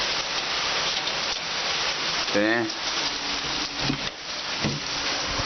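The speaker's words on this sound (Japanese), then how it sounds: "めっちゃ降ってますね。" Heavy typhoon rain pours steadily in Chigasaki during a storm warning, a dense continuous hiss of downpour with someone speaking briefly over it.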